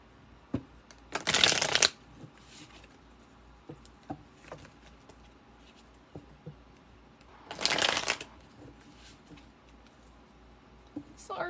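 A deck of tarot cards is shuffled up close in two short riffling bursts a few seconds apart. Soft handling taps and rustles fill the quieter stretch between them.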